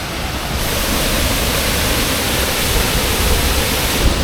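A dense, steady roar of a waterfall in Costa Rica fills the clip, loud and close, with a constant hiss and no voices.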